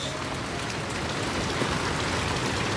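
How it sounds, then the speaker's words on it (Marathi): Heavy monsoon rain pours down in rural Konkan, a dense, loud, unbroken roar of drops hammering surfaces close by. "जोरात पाऊस पडते"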